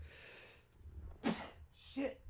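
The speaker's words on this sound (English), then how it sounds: "Now I gotta sneeze." A sharp breathy inhale leads into a loud, close sneeze, followed moments later by a second, slightly softer sneeze.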